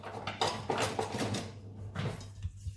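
A utensil whisks milk into pancake batter in a bowl, making soft wet scraping and clinking swirls, close and quiet, in short uneven strokes.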